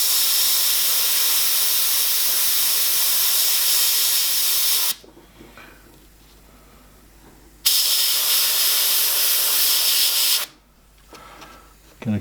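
An airbrush blasts a loud, steady hiss of air to dry fresh paint on a Joker artwork, running about five seconds, stopping, then resuming for a few more seconds before cutting off, with quiet room noise in the gaps.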